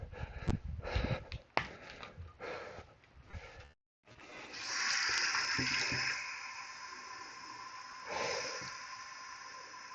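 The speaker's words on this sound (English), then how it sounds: "I'm gonna go get some, add some water to my drink here." Water is poured into a drink during a step-up workout: a few clattering handling knocks, a short pause, then a steady rushing pour that runs for several seconds, nearby and fairly loud.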